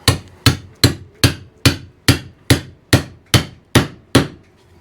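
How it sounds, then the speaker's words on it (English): Eleven sharp metallic hammer blows drive a piece of rebar into a drilled hole at a steady, even pace, each ringing briefly before the next strike, close and loud with no talking. "take your piece of rebarb, stick it in the hole,"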